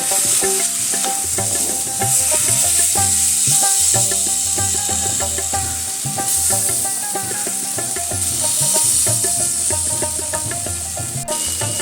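Kochur loti, taro stolons, fry in a kadai until they catch on the bottom, a loud, steady sizzle close up with frequent scraping stirs running throughout.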